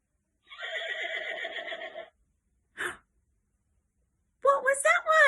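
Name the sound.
horse neighing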